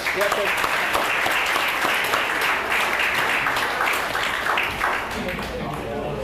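An indoor audience applauds the caterers at a 2008 Wall of Honor event, dense sustained clapping from many hands that fills the room for several seconds before tapering slightly.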